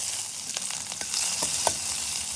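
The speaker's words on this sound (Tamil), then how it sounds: "மெலிசாக வதக்கின வெங்காயமும் பச்சை மிளகாயும் போட்டு வதக்கிங்கோ" Thinly sliced onions and green chillies sauté in a pan for a soya chunk pulao, giving a steady close sizzle with faint stirring scrapes and no talk.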